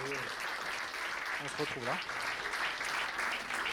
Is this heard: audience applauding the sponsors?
yes